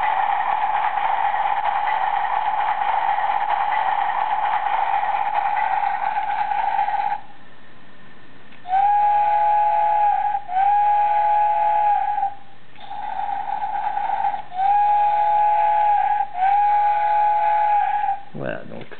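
A DX Travelion Magiranger toy in train mode plays an electronic jingle followed by several repeated, loud tooting train whistle blasts with brief gaps between them, heard up close with no talking.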